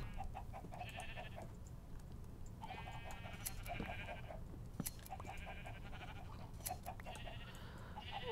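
Blocky video-game sheep bleat repeatedly in Minecraft, short wavering calls recurring every second or two at a soft, steady level over faint background noise, with no talking.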